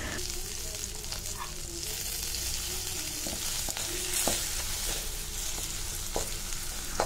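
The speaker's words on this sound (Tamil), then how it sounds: "கொஞ்சமாக எண்ணெய் ஊற்றிட்டு கடுகு கருவேப்பிலை போட்டிருக்கேன். அதில் நம்ம அரைச்சி வச்சுருக்க சட்னி ஆட் பண்ணிக்கலாம்." Mustard seeds, curry leaves and ground chutney sizzle in a little oil in a pan, a steady close frying crackle with occasional stirring clinks and soft pops throughout.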